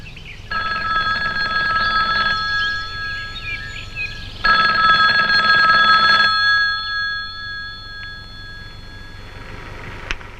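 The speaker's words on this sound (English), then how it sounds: "Morgan receives a phone call from a logger named Skip Wood." An old telephone bell rings in two long bursts separated by a pause, with a fainter trailing tone afterward, fairly close and alone without voices.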